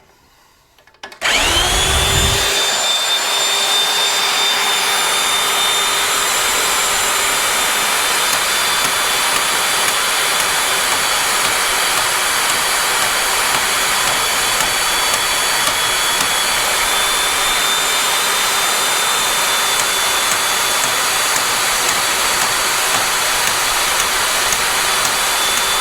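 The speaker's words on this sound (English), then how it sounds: "I'm going to just use this little bandsaw here, and I'm going to cut this piece of angle iron off with it" A $99 Harbor Freight bandsaw cuts through a piece of angle iron, starting abruptly after a second of quiet and then running as a loud, steady, high-pitched whine and hiss for the rest of the clip, with no talking.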